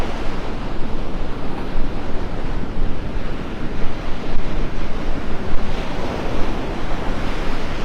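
Ocean waves break over a sandbar off a Gulf beach at Delnor-Wiggins in North Naples, a steady broadband wash of surf with gusting wind buffeting the microphone, loud and continuous with no talk.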